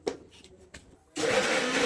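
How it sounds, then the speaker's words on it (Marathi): A mixer grinder whirs into a steady, loud grind of green masala paste made with cinnamon, two cloves and two peppercorns. A few faint knocks come first, then the motor runs on continuously. "तर आपण आता हे हिरवं वाटण वाटून घेऊयात असं."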